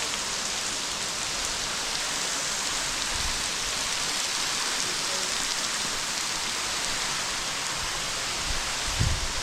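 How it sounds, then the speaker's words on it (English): Steady rain falls in Zion National Park, a dense even hiss of drops on the surroundings with a couple of soft thumps close by. "Yep, getting rained on."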